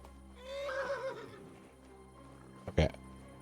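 A horse in the video game Kingdom Come 2 gives one loud whinny near the end, after a quieter stretch of low game ambience and faint movement.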